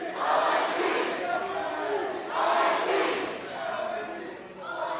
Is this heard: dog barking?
no